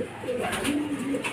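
Racing pigeons arriving home from a derby give soft, close coos in short repeated phrases over a low background murmur.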